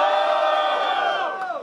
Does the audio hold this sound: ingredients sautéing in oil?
no